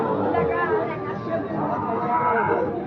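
Sahiwal and Gir breed bull calves lowing at the Ambari livestock market, several moos rising over a steady murmur of crowd chatter and talk nearby.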